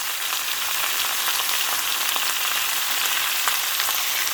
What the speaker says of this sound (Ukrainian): Сковорідка наша шкварчить.